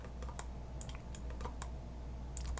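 Keys tapped on a computer keyboard while working in Autodesk Maya 2020, a soft steady run of scattered clicks close by over a low room hum, no talking.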